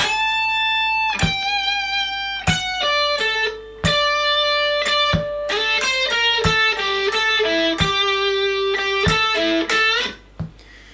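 An electric guitar plays a phrase alone, with clean plucked notes ringing out in a lilting rhythm of single notes and short runs, close and clear without any talk.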